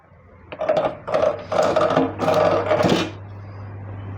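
A hand-operated spiral binding machine punches a paper sheet with a series of four or five close, loud mechanical strokes in quick succession, followed by a low steady hum.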